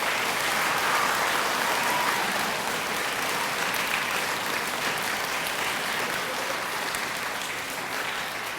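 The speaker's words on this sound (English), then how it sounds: "So one more round of applause for our teachers." Sustained applause for teachers at an elementary school assembly, a steady dense wash of many hands clapping throughout, close and loud, fading slightly toward the end.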